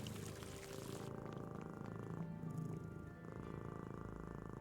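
A cat in the Nancy Drew game Mystery of the Seven Keys purrs steadily in a soft continuous rumble, set within a layered game soundtrack that shifts partway through, with no talking.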